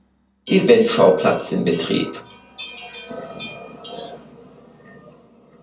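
Bells ring as a transition in a Japan documentary, with clinking metallic tones over a train-station announcement voice, then fading out gradually.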